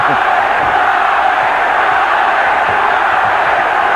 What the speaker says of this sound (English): Pro Chavez crowd chanting already.